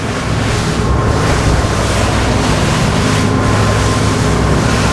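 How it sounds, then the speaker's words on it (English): Waves break around a SACS 42 boat running at speed, giving a loud, constant wash of surf and spray mixed with engine noise and wind buffeting the microphone. "we've got a couple breaking waves here"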